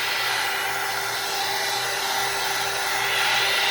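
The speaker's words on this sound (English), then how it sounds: "heat tool, and just hit this real fast" A heat tool blows a steady, loud whooshing roar with a faint hum underneath as it dries acrylic paint on a gelli print, continuous and close with no talk.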